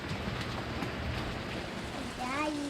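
A rainstorm patters steadily outdoors, an even hiss of falling rain, and a voice briefly speaks over it near the end.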